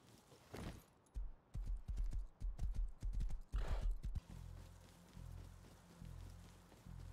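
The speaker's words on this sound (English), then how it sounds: "Horse." A horse's hooves clip-clop in the survival video game Rust, with quick, loud hoofbeats in two bursts and then a steady low hum underneath.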